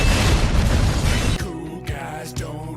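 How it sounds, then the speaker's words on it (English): A loud explosion in Grand Theft Auto V, a dense roaring blast for over a second that cuts off sharply and gives way to ringing, crackling debris and lighter tonal game sounds. "Cool guys don't look at explosions."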